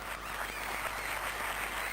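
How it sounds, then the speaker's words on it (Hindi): A studio audience at a comedy show claps for a couple of seconds, a fairly faint, even patter of many hands heard alone without speech. "जियो के लिए बहुत सारी तालियां हो जाए जी।"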